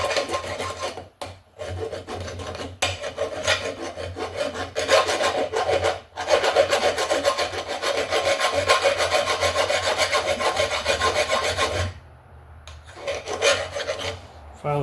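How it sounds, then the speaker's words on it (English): A flat file rasps on a bicycle part clamped in a vise, continuous close back-and-forth strokes with brief pauses, loud and steady throughout. "Take a flat file."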